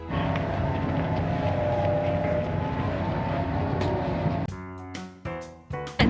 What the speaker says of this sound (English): That was the cable car.